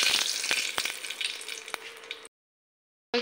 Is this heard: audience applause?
no